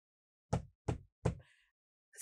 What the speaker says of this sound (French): Elle frappe à la porte